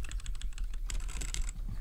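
Typing on a computer keyboard during a livestream: a rapid run of close, crisp key clicks, with a brief faster burst near the end.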